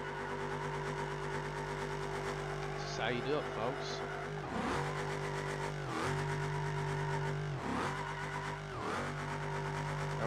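A car engine in the BeamNG.drive driving game revs and accelerates repeatedly, with surging pitch that drops sharply at each gear change, alongside brief tire squeals and someone talking over it.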